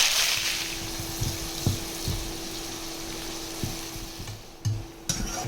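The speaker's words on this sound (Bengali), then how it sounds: "পেঁয়াজ ভাজা হয়ে গেছে, তুলে নেব।" Chopped onions frying in hot oil with cumin, sizzling steadily while a utensil stirs and scrapes the pan in occasional knocks, with no talking, for a Bengali tangra fish curry.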